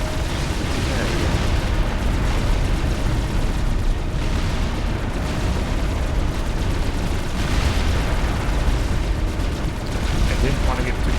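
Explosions rumble and crackle continuously in the Supreme Commander Forged Alliance strategy game, a loud dense barrage of booms with swelling bursts that keeps going for about eleven seconds.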